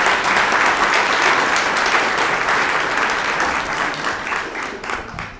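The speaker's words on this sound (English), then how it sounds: "have a round of applause for all of the nominees for middle school" An awards-event audience gives sustained applause for middle school nominees, dense and steady, tapering off near the end, with no talk over it.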